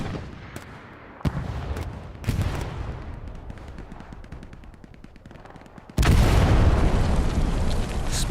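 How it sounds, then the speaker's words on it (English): Combat in Hell Let Loose, a WWII shooter, during a night battle at Kharkov: scattered gunfire and dull booms build up, then a loud explosion breaks out near the end and roars on steadily as heavy rumble. "Explosion goes off."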